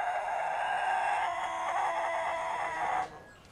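One rooster delivers a single long, sustained crow, close and clear, holding steady for about three seconds before cutting off abruptly.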